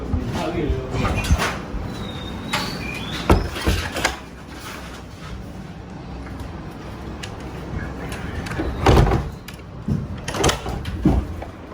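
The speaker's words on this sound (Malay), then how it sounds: "Tutup pintu ni lah." A door is shut with a few dull knocks during an air-conditioner installation, under ongoing conversation and room noise.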